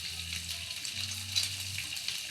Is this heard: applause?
no